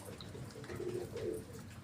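Soft cooing of pigeons or doves over a steady outdoor background hum, fairly faint and continuous.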